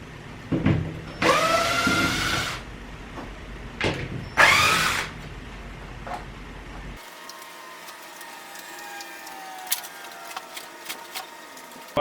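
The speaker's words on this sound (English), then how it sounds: "First thing we want to do is pull out the old screws." A power drill backs old screws out of a car headliner in two short loud whirring bursts with rising pitch, followed by quieter handling clicks and light clatter.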